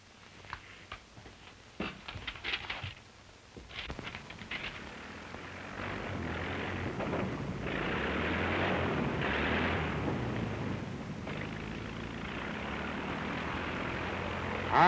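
A squadron of aircraft engines approaches in an early 1930s war film, the drone swelling from faint to a steady, broad roar that holds and grows louder toward the end.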